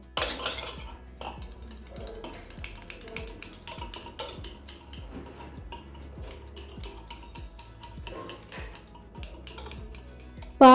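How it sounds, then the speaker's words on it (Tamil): Curd is beaten smooth and creamy in a bowl with rapid, rhythmic clicking and tapping of a utensil against the dish, close and fairly soft, no talking. "தயிர் சேர்த்துட்டு அதை நல்லா அடித்து எடுத்துக்கோங்க."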